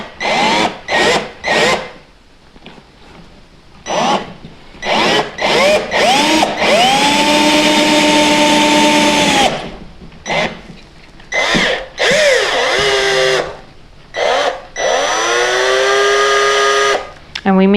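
A power drill bores a hole through a wooden drop spindle circle. It runs loud in repeated bursts, sometimes briefly and sometimes in long sustained runs, with its pitch sagging and recovering under load. Short gaps separate the bursts.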